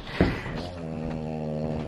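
Dog snoring, a close, low, steady rasping rumble with a brief sharp snort at the start, alone and moderately loud.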